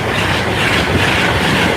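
A London North Eastern Railway train thunders past a level crossing in Lincolnshire, a loud, steady, close roar of wheels and rushing air filling the whole moment without pause.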